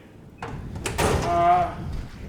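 A drawer slides open on a garage tool chest, one rolling metallic scrape with a rattle of loose contents, loud and close, with no talk over it.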